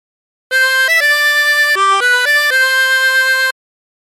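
A 16-hole tremolo harmonica plays the tune Oh My Darling Clementine, a short phrase of about seven sustained reedy notes with a wavering shimmer, loud and close, starting and stopping cleanly with no talk.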